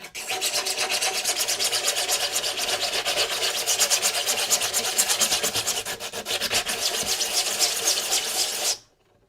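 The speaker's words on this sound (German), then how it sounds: "Kriegt ihr Gänsehaut von dem Schleifgeräusch?" Someone sands a 3D-printed relief pot by hand, making a loud, continuous, close scratchy rasp with rapid back-and-forth strokes for about nine seconds before it stops abruptly.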